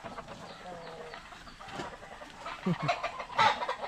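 A hen clucks in short, uneven bursts against a low farmyard background, with the calls growing louder toward the end.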